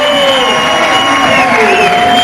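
A capacity crowd cheers and murmurs steadily at the indoor Florida Open bowling tournament in Tampa's Convention Center, a dense, loud wash of voices and whoops throughout.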